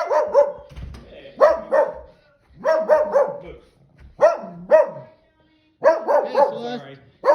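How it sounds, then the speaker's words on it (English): A dog barks in loud, close bursts at a residential house, several barks spaced through the clip in uneven clusters with short gaps between them. "Hopefully the dog doesn't bark at us."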